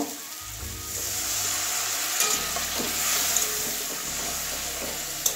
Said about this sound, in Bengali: এবারে জল দিয়ে মশলাটা কষিয়ে নেব।